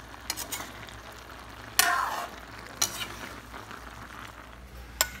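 Patola (sponge gourd) is being stirred in a hot pan, giving a few separate scraping clinks of a utensil over a steady low frying sizzle, close and moderately loud with no talking.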